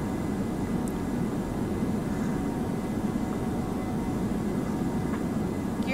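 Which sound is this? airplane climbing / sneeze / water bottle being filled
airplane climbing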